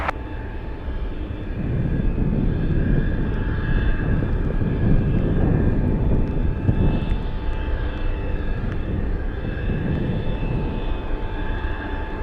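A heavy cargo jet landing on runway 15 at Anchorage fills the air with a loud, sustained engine roar that holds steady for the whole stretch, with no talking over it.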